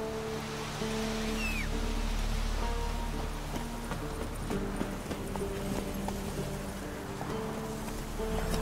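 Horse hooves clip-clop in a steady trot in The Witcher 3, close and continuous under ambient game music and background sound.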